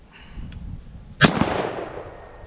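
A single sharp, loud shot from a 300 Blackout rifle with a 10.5 inch barrel firing 125 grain rounds, cracking out and then decaying into a long rolling echo, with no talk.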